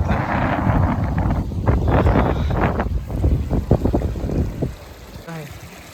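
Strong wind buffets the microphone outdoors beside a drained farm pond where people are catching fish, a loud continuous rumble with splashes and voices mixed in.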